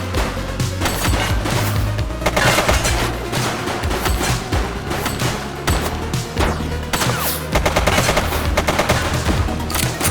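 Loud, sustained gunfire in The Precinct, with rapid automatic bursts and sharp single shots crackling in clusters over ten seconds, mixed with impacts and rumbling action noise.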